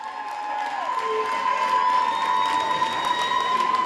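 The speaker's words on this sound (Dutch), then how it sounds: "Uw applaus voor Leen Willems." An audience at the Miss Leie Ambassadrice 2016 pageant finale cheers and applauds steadily, with whoops and shouts rising from the crowd over a sustained wash of clapping.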